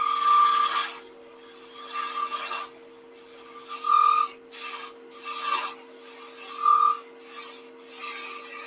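A skew chisel shaves a taper on a wooden spindle turning on a lathe, producing close, loud rasping cuts in repeated bursts over a steady underlying hum, with no talking.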